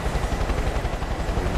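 Helicopter in the video game Far Cry 5, a steady low rotor chop and engine drone filling the short stretch at even loudness, with no voices over it.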